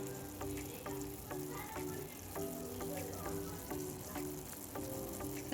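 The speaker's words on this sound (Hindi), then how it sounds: "5 मिनट के करीब हो गया है इसको शीरे को पकते हुए।" Sugar syrup for gond laddu bubbles in a pan, a soft, continuous sizzling and popping, faint and steady throughout.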